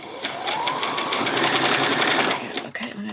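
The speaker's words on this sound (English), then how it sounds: "Okay, I'm going to just do a back stitch." A sewing machine runs steadily for nearly three seconds while stitching a back stitch on a peasant skirt, its motor whirring close and loud before it slows and stops.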